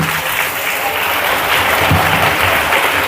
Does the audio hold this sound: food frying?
no